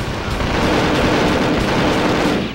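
Sustained, dense gunfire from the Perfect Dark video game, a loud continuous roar of rapid shots with no pauses across the whole stretch.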